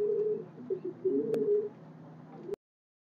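Pigeons coo close by at a pigeon sale, several soft, throaty, rolling calls that overlap and then stop abruptly.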